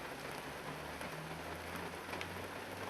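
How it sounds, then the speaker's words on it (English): Light drizzle falls over the mud flats of Hindmarsh Island near Goolwa, South Australia, a soft steady hiss with a faint low hum underneath and no talking. "It's still drizzling."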